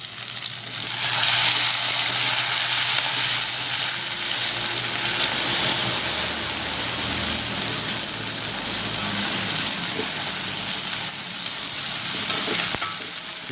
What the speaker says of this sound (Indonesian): Kita goreng sampai berwarna coklat atau menjadi matang